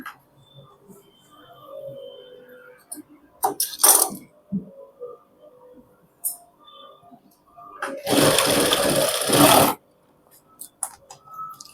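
Sewing machine stitching pant fabric, with short bursts of mechanical whirring and clicking, then one longer, loud continuous run of stitching before quieter handling noises.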